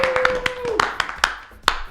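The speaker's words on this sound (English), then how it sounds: "Clap it up, clap it up, clap it up" At the start of a podcast episode, a few people clap in a sparse, uneven rhythm, with some brief voices or whoops mixed in over the claps.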